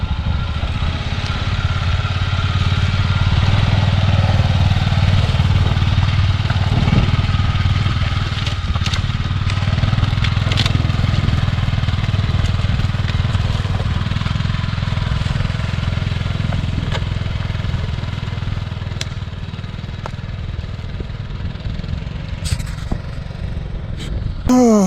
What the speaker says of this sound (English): Oh, the little ATV winch has met its match.